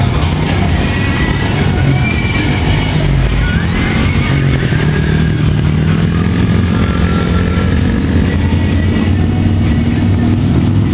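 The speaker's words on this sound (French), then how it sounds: "Mon gars Enrique sur la moto." A motorcycle rides along steadily, its engine a continuous loud drone with a dense low rumble and no pauses throughout.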